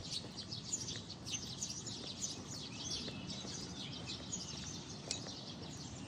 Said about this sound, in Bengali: সকালের আবহাওয়াটা ভালোই লাগে, পাখির কিচিরমিচির আওয়াজ